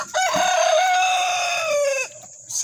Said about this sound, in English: Goodness, chickens.